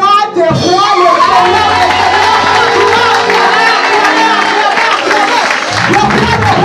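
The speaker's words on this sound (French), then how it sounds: "j'aimerais qu'on acclame pour le roi des rois, le Seigneur" A church congregation at a conference acclaiming and applauding, a dense loud wash of clapping, cheering and shouts filling the hall throughout, with voices mixed into the roar.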